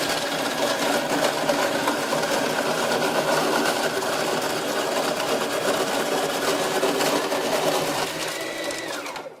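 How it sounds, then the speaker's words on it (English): A snow cone maker crushing ice, a loud steady motorised whir with rattling grind of ice running continuously, then winding down at the end, close and without talk. "I'm just going to start the machine up and start crushing ice."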